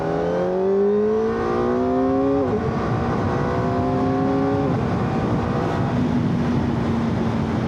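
A 2025 Kawasaki ZX-4RR motorcycle accelerates hard in second gear on a bumpy road, its engine note climbing in rising whining sweeps with clear drops at each shift, loud and close under steady wind rush.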